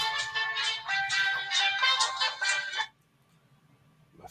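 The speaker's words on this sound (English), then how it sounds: "My phone's ringing." A phone ringtone rings loudly and steadily in a repeating electronic pattern for about three seconds, then cuts off, leaving near-silence.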